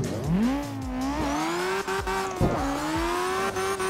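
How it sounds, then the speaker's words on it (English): A Nissan S13 drifts in the CarX driving game, its engine revving up and down in a rising, wavering whine, with tire squeal and gear shifts breaking the tone. "So I'm going to tandem drift with the S13."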